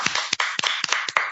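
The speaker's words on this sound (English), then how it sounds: "Big clap." A short burst of hand claps closes a podcast interview, with about eight sharp, close claps in uneven rhythm over little more than a second.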